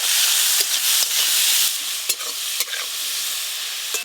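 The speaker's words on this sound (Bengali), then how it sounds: "সর্ষের তেল, চিংড়ি মাছগুলো ভালো করে ভেজে নেব।" Shrimp sizzle loudly as they fry in mustard oil, with a steady hiss broken by a few sharp crackles and stirring scrapes, and no voices.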